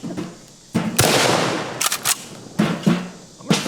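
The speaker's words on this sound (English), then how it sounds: "So let's take a couple shots." KSG-12 bullpup shotgun firing a couple of shots, sharp loud blasts with reverberant tails and mechanical clacks between them, close by.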